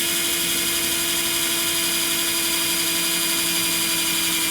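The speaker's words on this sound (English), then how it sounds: "We'll use a smaller drill bit here." A steady, high-pitched whine of a small drill runs without pause, a constant mechanical buzz with no talking.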